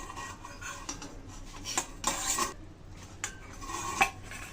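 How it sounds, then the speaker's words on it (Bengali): A metal bowl is lifted off a steamer after cooking duti pitha, a traditional Bengali rice cake, giving a few light clinks and scrapes of metal on metal at a moderate distance, with no talk. "গামলাটা তুলে নিলাম আগে।"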